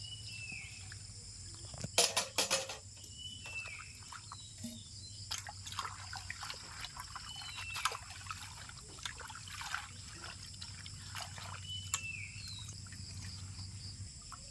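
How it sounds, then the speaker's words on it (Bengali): Water trickling and splashing in a kitchen as dhenga leaves are washed by hand, faint and steady, with a louder clatter of handling near the start and soft drips throughout. "এখন আমি ডেঙ্গা পাতাগুলিকে ভালো করে জল দিয়ে ধুয়ে নেব।"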